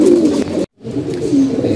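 Loud pigeons cooing up close in a breeding loft where pairs are kept, a steady rolling coo broken by a brief silent gap before the calls resume.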